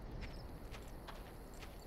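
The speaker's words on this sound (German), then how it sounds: "ich höre doch auf jeden Fall die Schritte auf der anderen Seite der Mauer" Faint footsteps on the far side of a wall in the video game Far Cry: four or five soft, muffled steps at uneven intervals, heard distantly under low background ambience.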